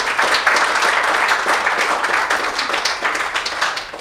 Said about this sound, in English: Can everyone give a round of applause for Karen and Shady?